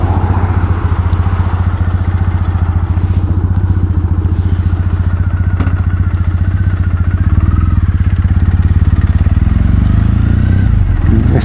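A Triumph Bonneville motorcycle rides downhill on a road in West Cumbria, giving a loud, steady engine drone with rhythmic exhaust pulsing and wind buffeting throughout.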